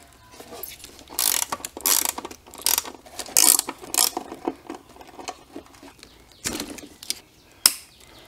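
Ratchet wrench clicking as it loosens bolts on a 2013 Harley-Davidson Road Glide during neck bearing work, in several bursts of quick close ratcheting with pauses between.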